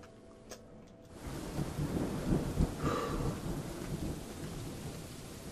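Rain pours steadily in the video game Dwarf Fortress, with a deep thunder rumble swelling in after a quiet start and then holding as a broad, close, continuous wash.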